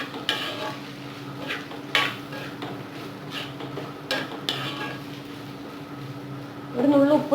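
Onions and shallots being stirred and sautéed in a pan for a crab roast, with soft frying sizzle and scraping of a utensil against the pan, steady throughout and ending in a brief louder clatter; a voice talks over it at times.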